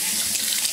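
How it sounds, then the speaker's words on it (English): Water running from a shower spray head during a monkey's bath, a steady, close, hissing spray that holds even and unbroken for under a second. "Meela, do you like the shower mode or that mode?"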